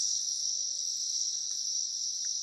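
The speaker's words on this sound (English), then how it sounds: "the noise is just what it sounds like in an Amazon rainforest in Peru" Night ambience in the Peruvian Amazon rainforest, a dense, steady wall of high insect chirping and cricket trill running continuously, with faint scattered calls beneath and no talking.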